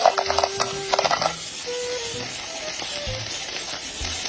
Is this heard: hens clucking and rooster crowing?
no